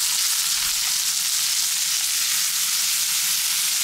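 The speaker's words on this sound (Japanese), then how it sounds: "豚肉なのでしっかり焼きましょうと思っています" Pork sizzles steadily in a frying pan, a dense, continuous crackle and hiss close by with no pauses and no voices.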